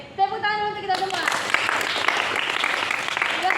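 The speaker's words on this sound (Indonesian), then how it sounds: "Tepuk tangan untuk kita semua." A classroom of junior high students at SMP N 2 Bukittinggi bursts into applause after an ice-breaking game, lively group clapping that starts abruptly after a short spoken line and carries on steadily to the end.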